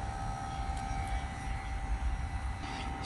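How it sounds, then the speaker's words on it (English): A smoke leak detector machine runs continuously during diesel particulate filter work on a BMW Mini, producing a loud, steady mechanical hum and whine with no pauses. "I'm using this smoke leak detector here"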